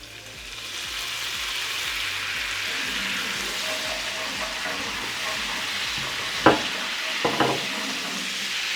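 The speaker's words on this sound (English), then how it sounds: "We're going to add some red wine to deglaze the pan." Red wine hits a hot pan after beef fillet has been seared, raising a loud, steady hissing sizzle that holds for several seconds, close by, with a few sharp clinks of a utensil near the end and no talking.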